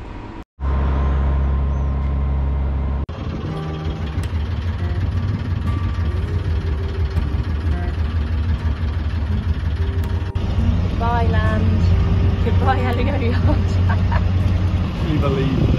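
A sailboat's engine that is having trouble, running with a steady low drone and knocking vibration after a sharp start, with faint clanks and squeaks layered on top.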